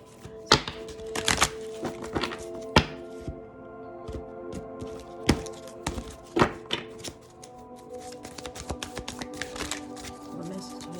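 A deck of cards is shuffled in irregular bursts of sharp riffling taps and soft thumps, close and fairly quiet, over a faint steady background hum.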